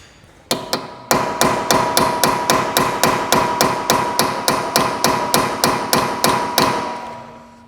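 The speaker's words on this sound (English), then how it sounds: "you just get a chisel in there to basically fold that metal out of the way so that you can then undo the bolt" Steady hammer blows strike a chisel to fold crimped metal away from a bolt while stripping a Ferrari 296 GTB, about twenty sharp metallic hits in an even rhythm, close and loud, with no talking.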